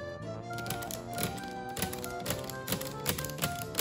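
Keys struck on an 1897 Jewett No. 4 typewriter whose carriage cable is stretched and no longer advances, a quick irregular run of sharp metallic clacks with ringing overtones, close and alone.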